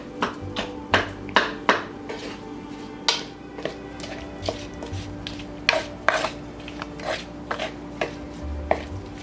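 Seasoned keto fish with lava salt and black garlic is stirred in a pan. A metal utensil clicks and taps steadily against the cookware in an irregular rhythm, over a faint background hum.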